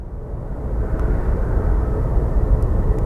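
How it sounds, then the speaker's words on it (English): A Boeing 777 airliner coming in to land makes a low, rumbling engine drone that holds steady and fairly loud, with no one talking. "the plane that got me super happy was the 777, and it is coming in right now"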